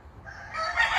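A black rooster on a farm lets out a single loud, close crow that rises in strength through to the end, with no talking over it.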